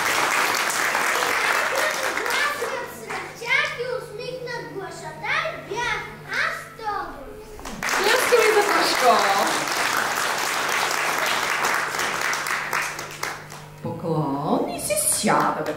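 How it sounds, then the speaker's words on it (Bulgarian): Sustained, loud applause from an audience at a first-grade school celebration of the alphabet, with children chattering and calling out throughout and a brief lull before the clapping rises again. "Пляскаме за децата."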